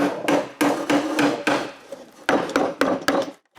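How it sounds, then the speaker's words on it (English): Chisel work cutting a mortise in the center of a wooden window frame for a bridle joint: a close, loud series of about ten sharp mallet-driven strikes in an uneven rhythm, with brief pauses between groups of blows and no talking. "When all four corners are cut, I take care of the true mortise in the center of the frame."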